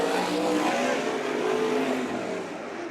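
Race cars run at Bakersfield Speedway, giving a loud, sustained engine roar that rises slightly in pitch and then eases off, with no talking.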